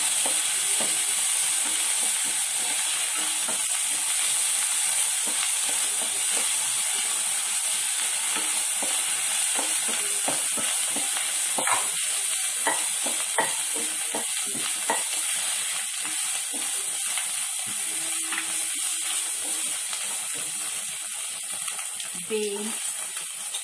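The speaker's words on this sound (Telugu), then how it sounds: "ఒక హాఫ్ టీ స్పూన్ అల్లం వెల్లుల్లిపాయ పేస్ట్ ఇది కూడా పచ్చి వాసన పోయేంత వరకు వేయించుకోవాలి" Half a teaspoon of ginger-garlic paste fries in a pan for vegetable pulao, a steady close sizzle hissing throughout with scattered scrapes and taps of stirring.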